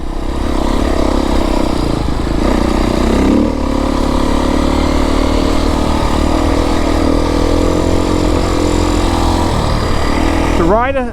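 Beta 350RR X-Pro dirt bike engine droning steadily while riding off-road, a loud continuous motor hum with slight rises in pitch and a brief rev near the end.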